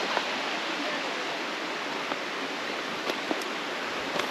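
River water rushing past a riverbank in Orsigna, a constant broad hiss of flowing current with a few faint ticks and knocks over it, steady and close throughout.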